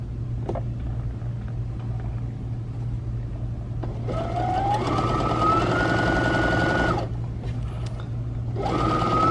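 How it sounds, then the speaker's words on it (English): A Baby Lock Presto II sewing machine runs a straight stitch at full speed, a smooth steady hum rising from about four seconds in, pausing briefly, then resuming over a constant low background drone. "That is full speed and it is quiet and smooth."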